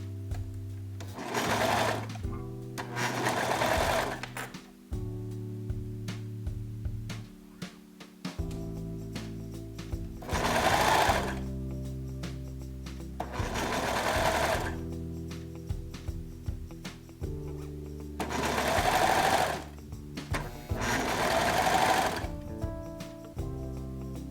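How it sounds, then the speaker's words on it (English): Domestic sewing machine stitching a stretched band onto the body top of cozy pajamas, several bursts of fast whirring stitching separated by quiet pauses, close and clear. "You want this to pull as you're sewing."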